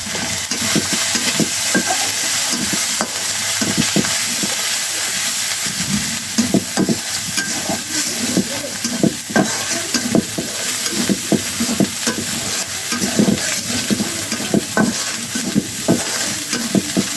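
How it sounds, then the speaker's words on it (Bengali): Turmeric and chili powder fry in a hot pan with a loud, constant sizzle and hiss, punctuated by repeated scraping stirs from a spoon; no talking. "এবার একটু হলুদ মরিচ দিয়ে দিব, দিয়ে একটু ভাজা ভাজা করে"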